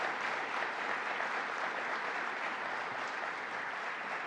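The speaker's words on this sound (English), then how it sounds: "So let's give them another round of applause." An audience at a New York governor's administration briefing in Syracuse gives sustained applause, a dense, even clapping that fills the room for several seconds without any talk over it.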